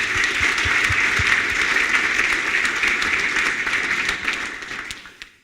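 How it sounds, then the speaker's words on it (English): An audience at a rotorcraft safety symposium closing session gives a steady round of applause for staff, a dense sustained clapping that holds for about five seconds before cutting off. "So perhaps a round of applause for them."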